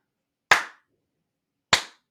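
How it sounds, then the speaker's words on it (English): Two sharp hand claps, about a second apart, each crisp and close with a quick decay, silence between them. "but I should probably clap"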